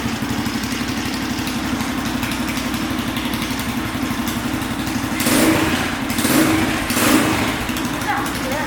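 A Baja Extreme X250 motorcycle with its muffler fitted, idling with a steady low throbbing thump, briefly revved a few times near the end, close by and loud.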